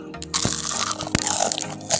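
Crisp bites into a fried spring roll wrapper snack filled with chocolate, with sharp crunchy snaps over a busy background, loud and close, in no clear rhythm.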